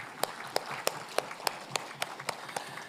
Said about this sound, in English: So let's give them all a round of applause and say thank you to all the workers.